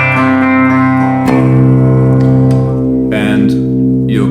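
A Fender Jazzmaster played through an amp on its clean first channel, sustained notes and chords ringing out at a moderate, steady level with a fresh pluck partway through and a bit of shimmer.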